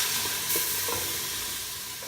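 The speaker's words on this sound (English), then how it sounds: "Let's put our garlic. Cook for another 30 seconds." Garlic sizzles in a pan, added after cooked onion for a Filipino pork pochero, with a soft, steady frying hiss and a few faint stirring scrapes, quiet and close, no talking.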